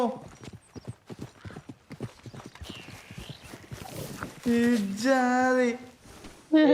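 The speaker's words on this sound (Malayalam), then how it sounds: "കുതിരയെ കാം ചെയ്യുമ്പോഴും കുതിര ലീഡ് ചെയ്ത് നടത്തിക്കുമ്പോഴാണ് കുതിരക്ക് ഫുഡ് കൊടുക്കാം" Horse hooves clip-clop in a steady, rhythmic gait in the Red Dead Redemption video game, fairly close, with people talking over them and a longer tonal call near the end.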